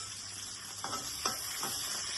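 Garlic and chilli peppers fry in a hot pan with a steady, close high sizzle, punctuated by three soft stirring scrapes.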